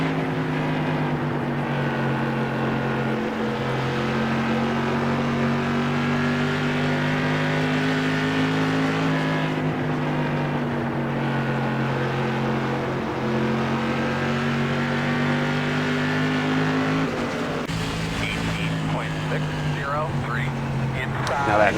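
SK Modified race cars in the iRacing simulator at Myrtle Beach, a loud continuous engine drone that holds steady pitch through laps and shifts near the end, with a voice talking over it throughout.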